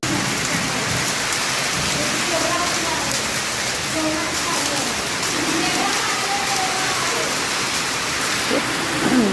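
Heavy rain pours in a dense, steady hiss outside a hotel during a storm, loud and unbroken throughout, with a faint low rumble underneath.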